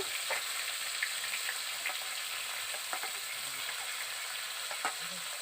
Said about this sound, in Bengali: পেঁয়াজগুলো আমি ভালো করে ভেজে নেব প্রথমে